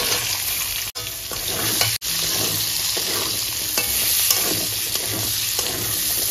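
Cut potatoes go into hot oil with a whole-cumin tempering and set off a loud, steady sizzle. Stirring scrapes run through it, and two short clicks break the sound.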